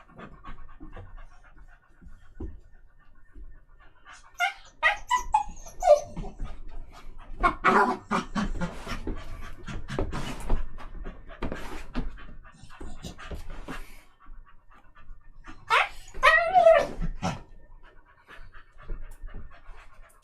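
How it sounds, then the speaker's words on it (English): Bertie the dog pants close by in quick rhythmic huffs that come and go in bursts across the stretch, with short quiet gaps and a few louder breathy passages. "Yeah, happy dog."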